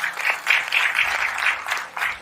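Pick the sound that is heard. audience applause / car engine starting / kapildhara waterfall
audience applause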